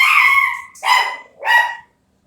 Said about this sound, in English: That's Maggie barking at the mail.